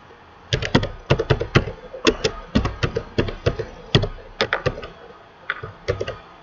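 Close, crisp keystrokes on a computer keyboard as a Python print statement is typed in Kali Linux, coming in quick uneven bursts of clicks with short pauses between words, no talk.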